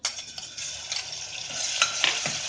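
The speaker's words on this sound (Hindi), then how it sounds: "अब इसमें हम डाल देंगे लहसुन अदरक का पेस्ट।" Steady sizzling of garlic-ginger paste frying in hot oil, with faint stirring scrapes, close up and continuous.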